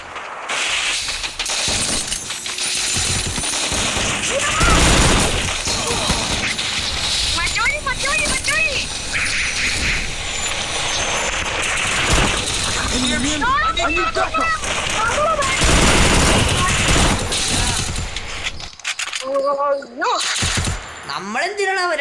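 Gunfire in the mobile battle game Free Fire: repeated bursts of automatic fire and sharp shots with breaking, shattering effects, loud and close, while players talk excitedly throughout.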